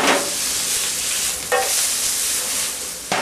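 Loud, steady sizzling of onions frying in margarine in a hot pan, with a couple of sharper stirring scrapes, close up and without talk.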